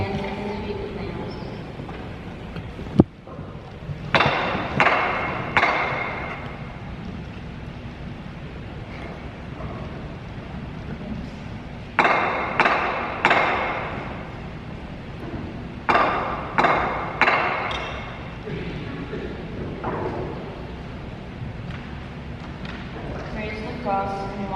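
Sharp hammer blows ring out in bursts during a passion play as nails are driven into a cross, a few strikes at a time with pauses between, against outdoor wind noise while someone narrates.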